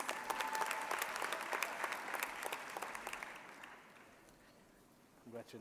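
A graduation ceremony crowd applauds with dense, steady clapping that gradually fades out, followed by a brief voice at the end.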